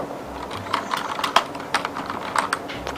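Rapid clacking of keys on a mechanical keyboard, irregular bursts of typing, close and crisp with no voices.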